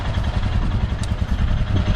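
A motorcycle engine idles in neutral, steady and fairly loud throughout with a low, rumbling, slightly uneven beat and no talk.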